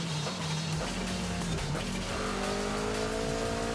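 A Mazda 323 GT R race car cornering at a hill climb, its engine holding a loud, steady note that then rises under acceleration, with squealing tires; close and continuous, no talk.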